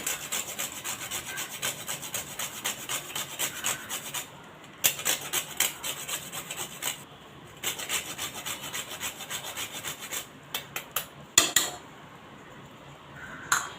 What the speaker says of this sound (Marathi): मी ते थोडंसं जायफळ किसून घालते